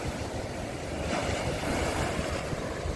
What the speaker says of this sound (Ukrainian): Зараз підійде хвиля.